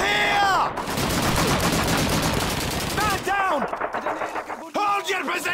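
Rapid bursts of rifle and machine-gun fire crackle close and loud in Call of Duty 2 combat at the Brigade Box, dense volleys broken by short pauses, with shouted voices mixed underneath.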